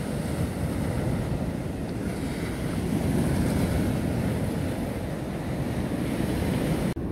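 Ocean waves and gusting wind roll steadily along a wet, windy Blackpool seafront on a choppy day, a continuous broad rumble of surf and wind buffeting the microphone with no voices.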